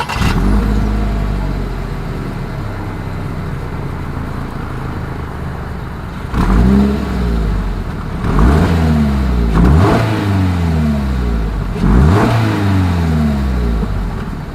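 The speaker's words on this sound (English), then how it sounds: "As always, here is that exhaust clip." A 2022 Toyota GR86 sports car's exhaust rumbles at idle, then several sharp revs rise and fall in quick succession, loud and close.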